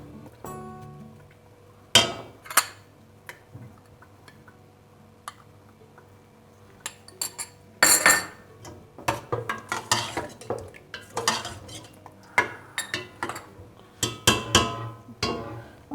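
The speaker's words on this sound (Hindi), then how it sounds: "इसको चम्मच को अच्छी तरह हिलाएं।" A spoon scraping and clanking against a pressure cooker pot while stirring palak chicken, with sparse knocks at first, then frequent irregular metallic clinks over a faint low hum, close by.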